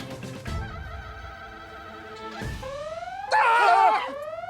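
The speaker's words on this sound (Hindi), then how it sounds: "ये हमारा फोन का अलार्म बजा।" A bright electronic alarm tone rings out in a repeating pattern, rising and swelling for a moment before settling back, close and clear.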